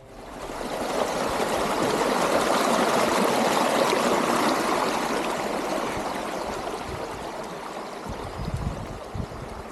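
A mountain stream rushes and gurgles continuously, swelling then easing slightly, with a few louder splashes near the end, on the Prashar Lake trek in Himachal Pradesh.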